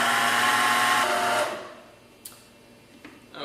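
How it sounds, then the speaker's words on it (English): A food processor grinds cheesecake ingredients with added xanthan gum for a gluten-free vegan cheesecake, running in a loud close whir that cuts off after about a second and a half and leaves only faint clicks. "as you're grinding this up in the food processor"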